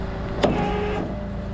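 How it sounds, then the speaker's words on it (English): An electric winch whines steadily while pulling a BMW car through a snatch block, a smooth continuous motor hum with a brief louder bump near the start. "that one to keep the winch line going straight towards the"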